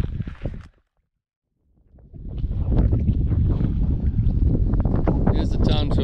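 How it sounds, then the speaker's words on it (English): Wind rushing up a mountain valley along a rocky knife-edge ridge below George Peak, a loud steady roar that begins abruptly after a brief silence and fills the rest of the clip close to the microphone. "wind blowing up the valley"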